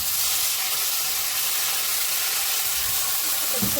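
Rice fries with onions in a hot pan, a constant close sizzle and hiss with a brief stirring scrape near the end and no voices.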